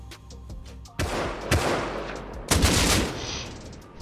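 Gunfire from the survival video game Rust Console: a few faint distant shots, then loud close bursts of rapid automatic fire with sharp repeated cracks, with no talking over them.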